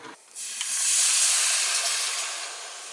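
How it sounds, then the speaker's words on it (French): Coconut milk poured into hot oil and red curry paste sets off a loud, sudden hiss that swells in the first second, then holds as a steady steaming sizzle that slowly eases. "Et maintenant je vais rajouter du lait de coco."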